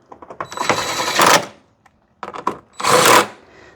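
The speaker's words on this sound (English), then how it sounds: "Grab a 10mm, tighten them in there." Ratchet fastening 10mm nuts on a Hyundai Santa Fe headlight assembly: two loud bursts of rapid clicking, close up, separated by a short pause, with no talking.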